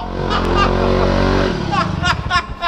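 A 1962 Centaur FS4 scooter engine runs loud and close, a steady buzzing drone for about a second and a half before it drops off into rougher, sputtering bursts, with a few short higher squeaks near the end.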